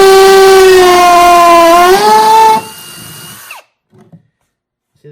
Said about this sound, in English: if I put it in hammer mode, you're going to hear the drill sounds different